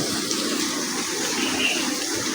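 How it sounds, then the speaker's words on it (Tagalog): Loud, continuous rushing water with a broad hiss, steady and close, like strong sea waves washing in without a break. "lakas talaga yung mga alon"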